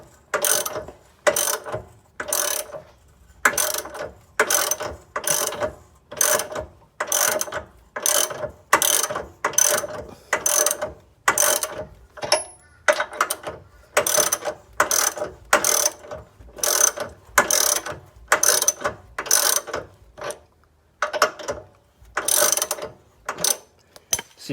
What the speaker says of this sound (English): you just want to loosen off this bottom